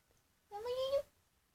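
A cat meows once, a short clear tonal call from a cat in the Avakin Life game, with the cry close and fairly loud against a quiet background.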